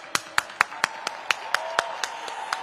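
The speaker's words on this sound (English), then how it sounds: "I want a round of applause for all of the technicians in the house right now" Crowd at a Monster Jam freestyle event in Cardiff applauding the technicians, heard as a slow, regular series of sharp, distinct claps, near and evenly spaced, with faint background noise between them.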